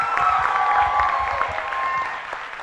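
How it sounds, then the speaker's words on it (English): A debate audience applauds both grand finalists at an English debate grand final. The clapping is steady, moderately loud and dense, with no voices over it. "please give a massive applause for both grand finalists"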